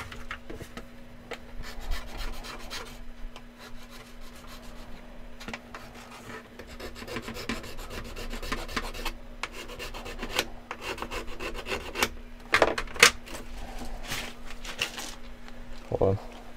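A wooden part is trimmed by hand with steady rasping and rubbing strokes, close and continuous. A faint background hum runs underneath, along with a few small knocks and clicks near the end.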